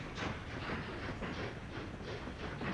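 A steam train rolls along the line in the city-building game Workers & Resources: Soviet Republic, giving a steady rumbling, hissing run with faint rhythmic clatter, continuous and fairly loud, with no talk.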